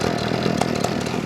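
A Redmax HTZ2460 hedge trimmer's small two-stroke engine runs with the choke on, a steady buzzing drone with slight uneven pulses, close by.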